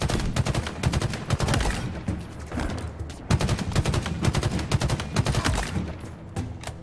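Gunfire in the video game Halo Infinite, sniper rifles among the weapons: dense, rapid bursts of sharp shots that keep going almost without pause, loud and up front, with short lulls between volleys and no talk.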